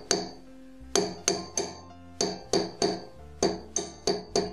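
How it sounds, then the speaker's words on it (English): A hand hammer strikes the rounded loop of a wire ear wire being hardened, about eleven sharp metallic taps in an irregular, fairly quick rhythm, each one ringing briefly, close and clear with no voices. "I only hammered the rounded part because that was the part that I really wanted to make a lot stiffer."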